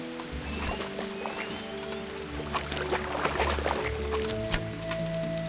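Horse hooves clop steadily while riding in Kingdom Come Deliverance, with watery splashing mixed in and soft sustained background tones underneath, moderately close.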